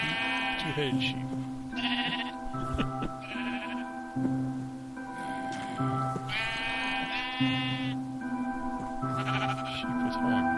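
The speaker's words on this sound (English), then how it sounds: "Purple and blue sheep, two-headed sheep." Sheep bleat repeatedly in the Minecraft Twilight Forest mod, including purple, blue and two-headed sheep. Several loud, close bleats rise over steady game ambience and background music, and a voice talks through the clip.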